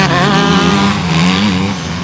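Roaring Kawasaki-led pack of motocross bikes racing on the Loon-Plage beach circuit, a loud continuous engine drone with revs rising and falling as machines pass close by.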